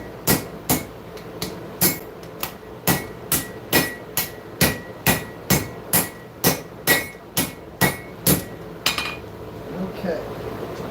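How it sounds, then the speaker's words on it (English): Hammer forging hot metal in a hot shop, steady rhythmic ringing blows about once per half second, around twenty strikes, loud and close, slowing near the end. "I'm over here forging in the hot shop"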